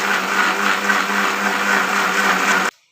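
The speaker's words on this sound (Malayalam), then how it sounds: "എന്നിട്ട് ഇതൊന്ന് നമുക്ക് നന്നായിട്ട് അടിച്ചെടുക്കാം." A kitchen mixer grinder whirs loudly and steadily for a few seconds as it blends raw mango buttermilk, then cuts off abruptly.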